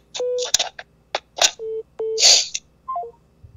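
A telephone call connecting on a Korean call-in radio show: a string of short electronic beeps and dialing tones in an irregular pattern, with a brief falling tone sequence near the end.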